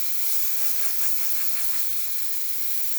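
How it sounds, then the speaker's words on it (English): Steam wand on a serviced La Pavoni Stradivari espresso machine blasting a steady, loud hiss of steam into the open air, continuous and close without talking. "now we're going to test the steam on with grabbing a milk pitcher"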